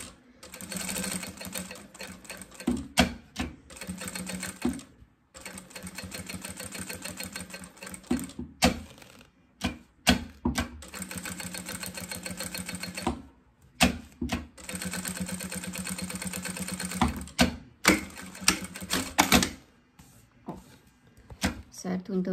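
Domestic sewing machine stitching fabric for a small Easter gift bag, running in repeated close bursts of rapid mechanical clatter separated by brief stops, with someone talking over it.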